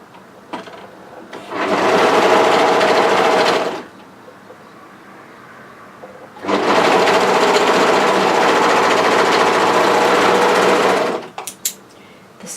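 A sewing machine stitches a hoodie cuff in two long steady runs, the second longer than the first, separated by a short quiet pause, with no one talking.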